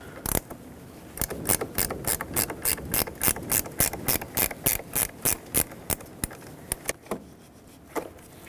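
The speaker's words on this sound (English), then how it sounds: "Loosen it up and remove the terminal." A hand ratchet loosens the 8mm battery terminal nut on a 2011-2016 Ford F-350, with a steady series of close, crisp pawl clicks in even rhythm that slows and thins out toward the end.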